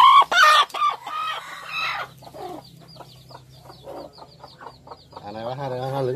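Chickens cluck and squawk loudly up close in a rural Mekong Delta setting, a burst of agitated calls at the start followed by quieter scattered clucks and rustling, with a low steady hum underneath.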